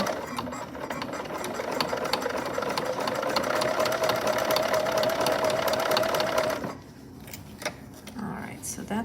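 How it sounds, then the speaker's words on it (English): A home sewing machine stitching a summer dress, running with a steady whirring, rattling hum and rapid needle ticking for several seconds, then stopping to quieter handling noises. "I can hear my needle popping."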